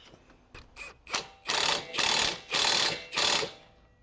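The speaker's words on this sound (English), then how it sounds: "You can grab your 12. Tighten up the brake line." A ratchet with a 12 tightens a brake line fitting on an Infiniti G37 Coupe during a coilover install. Several short clicking strokes build into four longer, louder bursts, close up with no talking.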